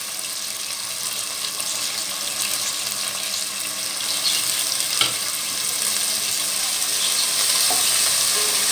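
Tomatoes and small onions sautéing in a pan for a fish kuzhambu, giving a continuous bright sizzle that grows slightly louder midway, with one faint clink, and no speech.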